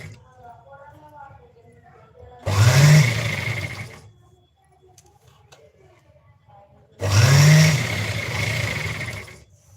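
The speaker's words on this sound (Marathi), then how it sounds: "आणि सरळ शिलाई टाकायची." Sewing machine running a straight stitch along a blouse sleeve, two separate whirring bursts of about one and a half seconds each, with quiet gaps between them.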